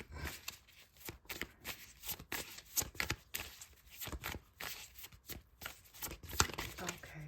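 Tarot cards being shuffled by hand, a steady run of soft riffling and flicking bursts close by, with no one speaking over it.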